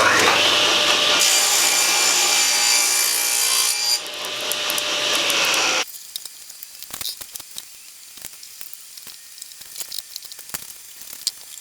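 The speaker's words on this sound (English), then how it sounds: "I've just turned my miter gauge to 15 degrees and I'll snip off the ends" A table saw with the miter gauge set to 15 degrees snips the angled ends off a narrow wood strip, a loud close whine for about six seconds, then quieter clicks and handling sounds as the blade spins down.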